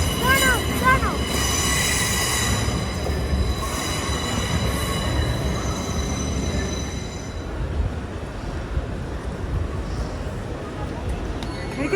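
A train pulls into a station on a journey from Newcastle toward Edinburgh, with loud rumbling wheels and high metallic squeals over the first seven seconds, then a steady rolling rumble, and faint talk in the background.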